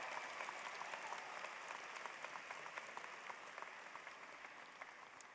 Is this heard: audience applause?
yes